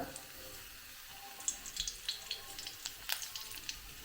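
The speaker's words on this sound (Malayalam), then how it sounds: "അതിനകത്തേക്ക് നമ്മൾ എടുത്തു വെച്ച വേപ്പല ഒരു പത്ത് പതിനഞ്ച് വേപ്പലാണ് അതിനകത്ത് ഇട്ട് കൊടുക്കുകയാണ്" Ten to fifteen neem leaves sizzle and crackle in hot coconut oil in a pan, with faint, irregular pops and spits over a quiet background of frying hiss.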